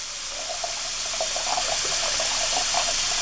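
Hot water runs steadily from a tap into a bathroom sink to flush a slow drain, a continuous splashing gush that grows slightly louder, with no voices.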